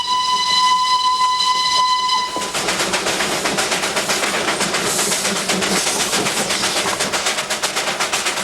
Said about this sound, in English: This incredible engine, built over 70 years ago, takes 6 crewmen to operate it.